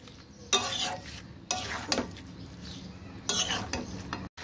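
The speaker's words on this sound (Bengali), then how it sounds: "দিয়ে এবার এটাকে ভালো করে মিশিয়ে নেব।" A spoon stirring spices (turmeric, cumin) into a banana flower mixture with salt, in three separate bursts of scraping against the pan, each short, with faint quiet gaps between.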